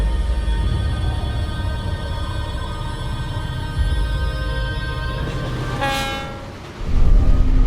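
A train in Mauritania rumbles steadily close by, its loud horn sounding a long, tonal blast before a heavy mechanical roar rises at the end.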